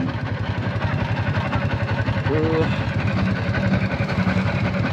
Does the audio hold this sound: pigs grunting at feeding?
no